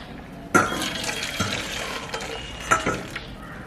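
Water drains from a pot of boiled cassava in a kitchen, with a steady pouring splash punctuated by a few sharp clanks of the pot, moderately close and with no voices.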